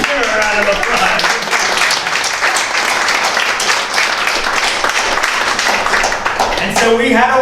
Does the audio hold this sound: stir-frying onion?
no